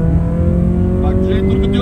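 A car engine held at full throttle near 4500 rpm, a steady loud drone with strong sustained tones throughout, while people talk over it.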